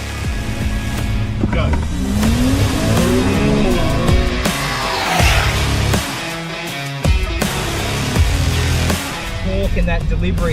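Race cars of the Thailand Super Pickup category revving hard at a circuit during a final race, engines surging and dropping in pitch with gear changes, loud and close, while a commentator talks over them throughout.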